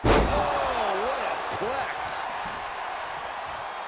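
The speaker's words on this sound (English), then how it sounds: "The follow-away slam" A single heavy body-slam impact in the WWE 2K23 wrestling game lands hard right at the start, then fades under a commentator talking over a low crowd murmur.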